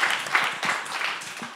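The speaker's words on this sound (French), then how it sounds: "Vous pouvez les applaudir." Audience applause after a manga translators' round-table panel at the SaYONNE'ara 2023 convention: steady crowd clapping filling the whole stretch at moderate loudness, with no speech over it.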